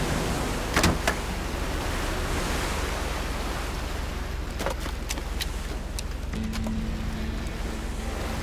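A boat's electric bilge pump in the game Age of Water runs as a continuous rushing, watery whoosh, steady and fairly loud, with a few clicks and knocks over it.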